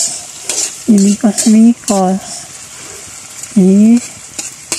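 Pechay greens sauté and get stirred in a pan for a sardine vegetable dish, producing a loud sizzle with several short bursts of stirring activity, overlaid by strong harmonic voice-like sounds.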